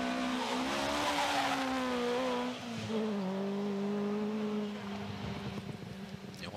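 A Peugeot 504 V6 rally car arriving on a stage of the Legend Boucles Bastogne 2017: loud sustained engine note rising and holding, with shifting revs as it approaches and passes close by.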